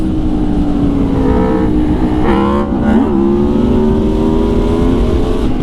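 A 2019 Aprilia Tuono V4 1100 Factory sport motorcycle engine revving loud and close, pitch rising and falling through a quick blip, then settling into a steady high drone.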